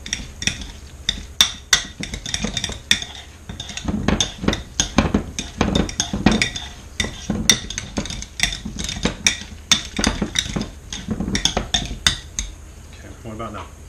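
Chicken fajitas are stirred in a pan with a metal utensil, producing repeated sharp clanks and scrapes in an irregular rhythm over about fourteen seconds, close and fairly loud, with some talking in between.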